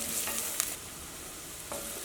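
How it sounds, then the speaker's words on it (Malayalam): Turmeric powder fries in oil in a pan for a beef curry, giving a soft close sizzle with brief stirring scrapes and a couple of small crackles, no voices. "മഞ്ഞൾപ്പൊടി ഫസ്റ്റ് നന്നായിട്ടൊന്ന് മൊരിയട്ടെ"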